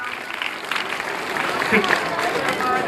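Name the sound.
applause for a student at a school award ceremony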